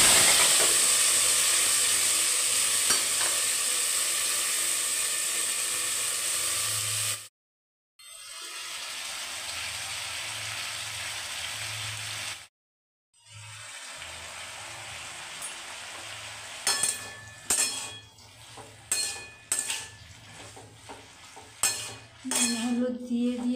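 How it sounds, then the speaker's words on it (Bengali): Potatoes fry in hot mustard oil with nigella seeds, a steady close hiss and sizzle broken by two brief silences, then a spatula scraping and clinking against the pan toward the end. "এখন আমি আলুটা ভেজে নিচ্ছি"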